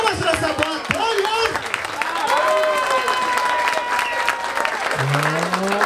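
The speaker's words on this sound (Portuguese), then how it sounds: "Palmas pra essa batalha!" A crowd at a hip hop rap battle applauds steadily throughout, with scattered voices and whistles rising over the clapping.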